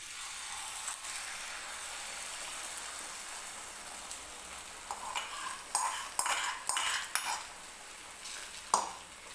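Beaten egg mixture for a bread omelette hits hot oil in a pan with a steady soft sizzle, then a spoon spreads it, adding scattered scraping clicks toward the end; no talking.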